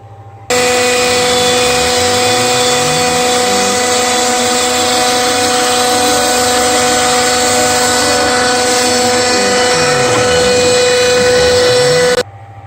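A loud, continuous high-pitched whine of a power tool cutting a binding groove around a Les Paul style guitar body, running steadily for about twelve seconds, close up, with no talking.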